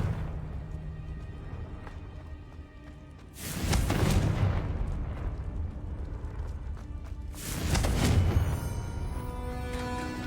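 Two heavy booming blasts from the Confringo spell in Hogwarts Legacy, each a broad rumbling burst several seconds long, rising over a steady backdrop of game music and ambience.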